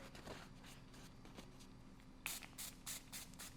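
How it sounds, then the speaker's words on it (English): Line conditioner sprays from a bottle onto a paper towel in several short, close hissing bursts, following quiet rustling and handling of the towel. "I spray a lot of that"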